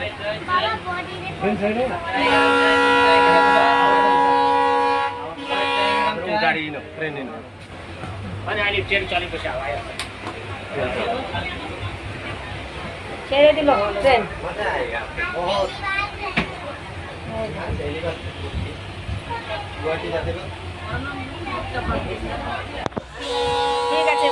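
A passenger train pulls out of a station, with a sustained horn-like tone early on over a steady rumble. Voices and crowd noise from people on board continue throughout.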